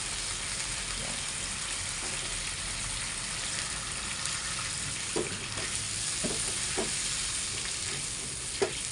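Fish fries in a pan with oyster sauce, giving a steady, dense sizzle throughout with a few scattered knocks and scrapes of stirring, close up and without talking.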